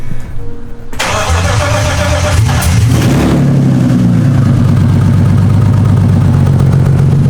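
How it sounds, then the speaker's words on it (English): A BMW E30 with an S52 engine and open headers starts up, then settles into a loud, close, rumbling idle with a steady throaty exhaust note. "It's been idling pretty good."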